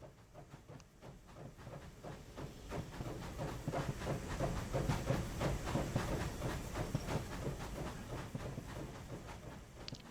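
A steam train rolls into a settlement in the video game HEAT, its rhythmic clickety-clack and hissing steady and fairly loud for about ten seconds, building slightly toward the middle with no voices over it.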